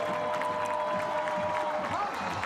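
A sweltering home crowd at a Huntsville City FC match against Chattanooga roars and cheers after a goal, a dense, sustained wall of noise filling the stadium with a steady level throughout.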